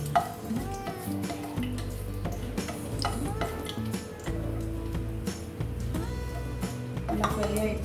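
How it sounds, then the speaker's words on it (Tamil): Whole spices for mutton mandhi crackle and sizzle in hot oil while being stirred, with scattered pops, metal utensil scrapes and clinks against the pan, close and moderately loud. "அந்த பேலன்ஸ் வச்சுருந்தோம்ல ஸ்பைசஸ்ஸு அதை போடுறேன். நல்லா ஃப்ரை பண்ணிக்கிறேன்."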